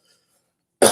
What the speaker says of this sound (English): I had a cough, but don't worry.